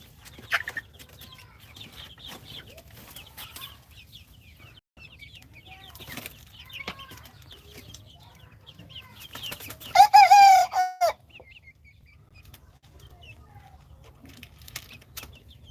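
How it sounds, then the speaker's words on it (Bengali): Chickens cluck sporadically on a quiet poultry farm, with one loud, drawn-out squawk or crow bursting out near the end before the clucking settles again. "মুরগিগুলা দেখেন"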